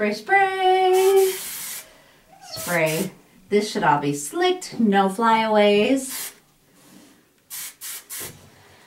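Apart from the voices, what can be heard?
hairspray being sprayed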